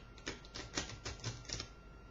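A deck of playing cards is cut and shuffled up close, giving a quick series of soft flicking and riffling bursts in an otherwise quiet room.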